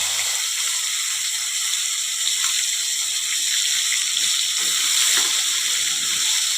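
Ground masala paste sautéing in hot oil over low heat for tomato saar, a steady close hiss and crackle of frying with no voices, holding even throughout.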